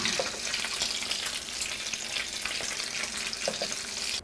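Flour tortilla flautas frying in hot oil make a dense, loud, continuous crackling sizzle, with scattered sharper pops throughout and no voices.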